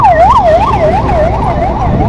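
A loud, close ambulance siren wailing in rapid rising and falling cycles, with road traffic rumble underneath, in Puri, Odisha.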